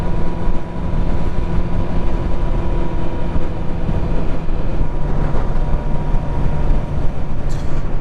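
A 2018 Honda CB650F motorcycle cruising steadily along Pennsylvania roads near Kutztown in autumn, its engine drone and wind rush continuous and loud at close range with no talk.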